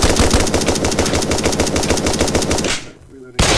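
Rapid, loud gunfire in the survival video game Rust, a fast even burst of close shots that stops abruptly, followed by a short mechanical click.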